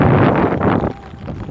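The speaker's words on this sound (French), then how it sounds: "Wouhou, il y a du vent." Strong wind buffeting a microphone outdoors in open countryside, a loud close rumbling roar that surges and then eases slightly, with no clear talk.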